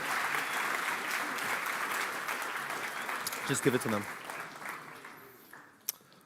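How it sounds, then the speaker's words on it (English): Audience applause for a group of startups at a startup event, a steady wash of clapping that fades out toward the end, with a voice speaking briefly over it. "A round of applause for all these startups."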